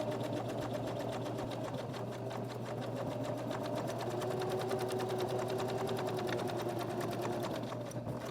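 A sewing machine stitches steadily along a placemat seam, a continuous rapid mechanical whir with a constant hum, close and even throughout.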